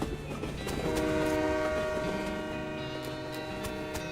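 A train in the video game West of Loathing rumbles steadily with a rolling clatter, and a sustained train horn sounds over it, fairly loud and continuous, with no voices.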